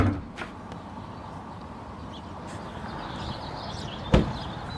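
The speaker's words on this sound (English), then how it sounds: "Pull on it until you hear the hood pop open." A single sharp metallic pop near the end as a 10th-generation Honda Civic hood latch releases, after quiet rustling and a faint click at the start.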